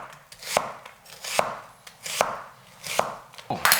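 A knife chops an onion on a board for butter chicken, about five evenly spaced sharp cuts, close and crisp, with no voices.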